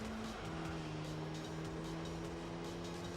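A Camaro race car engine drones steadily through a racing video game lap, a loud, unbroken hum with slight pitch shifts.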